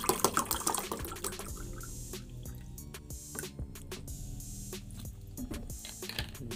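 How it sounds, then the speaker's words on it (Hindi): Plain water is poured into a glass at close range, with splashy dripping and irregular clicks that are loudest at the start and then settle into scattered drops. "एक हम गिलास लेते हैं, इसमें हम पानी डाल देते हैं, नॉर्मल पानी। तो चलिए भर देते हैं इसमें पानी।"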